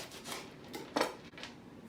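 A knife slices a passion fruit in half on a kitchen surface, giving a few soft scraping contacts and one sharper, brief crunching cut in the middle, close and quiet.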